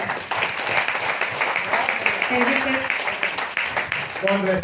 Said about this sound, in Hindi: बहुत जोरदार तालियां हो जाए अमिता के लिए।